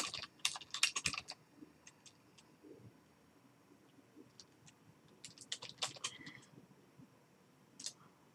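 Computer keyboard typing in clustered bursts of quick, close key clicks, a flurry at the start, another run around the middle and a few isolated taps near the end, with no talking.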